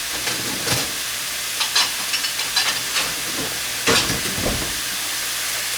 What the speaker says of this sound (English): mix that up and let all that cook into the hamburger as the onions cook and the hamburger gets brown